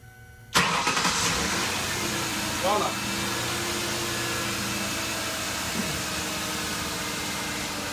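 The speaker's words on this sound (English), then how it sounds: "This vehicle is running." A 2006 Ford Taurus engine cranks and catches with a sharp onset, then settles into a steady, moderately loud idle that runs on with a constant mechanical hum.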